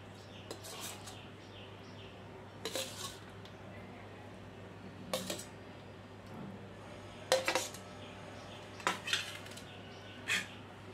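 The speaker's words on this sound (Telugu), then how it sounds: "చల్లారాక ఇలా మిక్సీ జార్లోకి ట్రాన్స్ఫర్ చేసుకోండి." Cooled green chillies and cooked chukkakura (sorrel leaves) being moved into a mixer jar, with scattered clinks of a spoon against a steel jar at irregular moments over quiet room noise.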